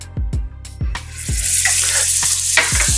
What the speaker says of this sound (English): next we want to add our 1 tablespoon of butter